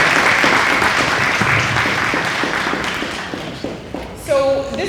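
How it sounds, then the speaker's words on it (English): An audience claps for the panelists at a Black business economic empowerment panel event in Grand Rapids, dense sustained applause that gradually fades, followed by a short voice at the end. "Can we get a round of applause for our panelists?"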